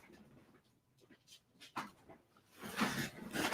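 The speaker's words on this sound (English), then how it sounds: "I just woke up my dog." A dog that has just been woken pants and snuffles close by, with soft intermittent breaths that swell into louder, quicker panting near the end.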